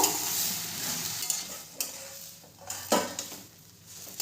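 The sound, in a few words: stirring turmeric and salt into tomato chutney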